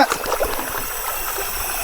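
Water is poured onto a hot gas cylinder while cooking fish in the middle of a river, a close, continuous trickling and splashing stream with faint gurgles.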